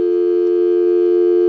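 A Harris TS22A lineman's telephone giving a busy signal: one loud, steady electronic tone that holds unbroken and clean from start to finish.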